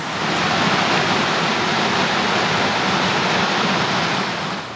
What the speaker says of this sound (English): I can hear some water rushing here.